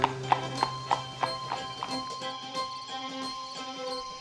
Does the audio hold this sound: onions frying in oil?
no